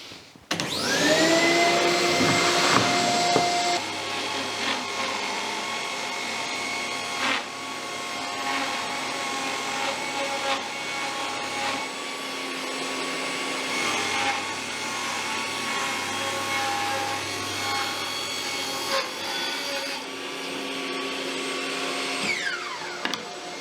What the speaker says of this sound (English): so I'm going to rip this board at 6 inches or 150 mil